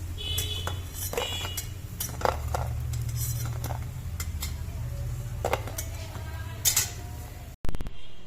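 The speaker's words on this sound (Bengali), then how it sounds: "এবার আমি সব বড়া একটা প্লেটে উঠিয়ে নিচ্ছি।" Soft clinks and light taps of fried coriander-leaf pakoras being set onto a plate, scattered and close, over a low background hum.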